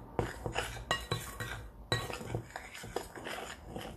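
Cake batter being mixed in a bowl, with irregular clinks and knocks of a utensil against the bowl, moderately quiet and close.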